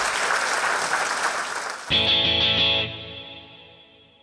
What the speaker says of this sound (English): big round of applause for Marcus Chown